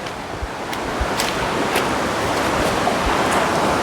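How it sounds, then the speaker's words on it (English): River water rushing along a riverside in Jamaica, a steady broadband wash with soft splashes and light wind buffeting, continuous and fairly close throughout with no talking. "Showing the beauty of the river."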